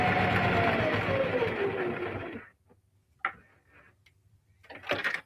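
A sewing machine runs steadily for a couple of seconds while stitching a necktie, then stops; afterwards come a few faint clicks and handling noises, with a low hum underneath.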